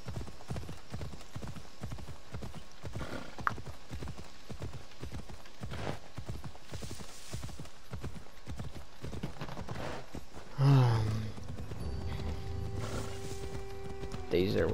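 A horse gallops in Assassin's Creed Odyssey with a rapid, even clip-clop of hooves across most of the stretch, followed by a loud neigh near the end, under game music and effects.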